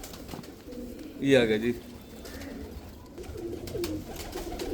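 A rain pigeon, a favorite bird of a pigeon fancier's flock, gives a short burst of cooing near the start and softer coos later, with someone speaking briefly.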